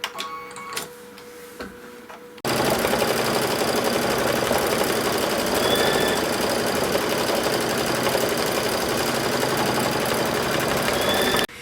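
A long-arm quilting machine stitches a quilt in a steady, loud mechanical run that keeps an even rhythmic clatter from about two seconds in until it stops at the end. A few faint knocks come before it starts.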